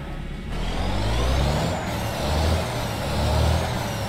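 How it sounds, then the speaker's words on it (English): Truck engine running in a video game, a loud low diesel drone that rises and falls in revs, with a brief hiss near the start and no talking. "let's get this truck fired up over here."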